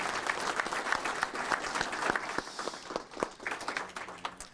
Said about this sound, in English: And one more big round of applause for Jaden and her family, please.